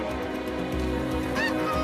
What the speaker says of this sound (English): With the snow goose population swelling, the battles only intensify year to year.